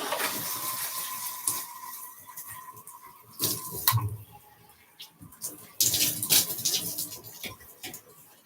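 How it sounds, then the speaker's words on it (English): Water runs and splashes irregularly from a tap or sprayer while a dog is washed in a tub, bursts of flow starting and stopping with intermittent handling noises close by. "I'm going to continue washing him off."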